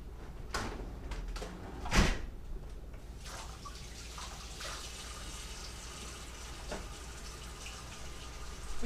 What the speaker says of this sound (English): If you ever touch raw meat, you gotta wash your hands immediately.